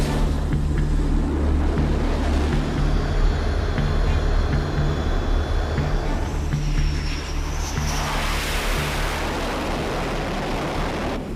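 A US Navy jet spools up to full throttle for a carrier go-around, a loud sustained roar mixed with wind and sea wash that rises and shifts in pitch partway through.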